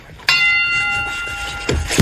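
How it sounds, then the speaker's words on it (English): A boxing ring bell strikes once with a sharp onset, its bright metallic tone ringing and slowly decaying over a quiet background, with some low thumps near the end. "All right, gentlemen, you hear the bell."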